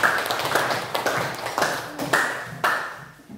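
A classroom bursts into applause, with a quick ragged run of claps and taps that comes in several short waves over a few seconds before fading.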